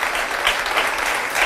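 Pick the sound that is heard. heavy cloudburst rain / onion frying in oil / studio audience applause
studio audience applause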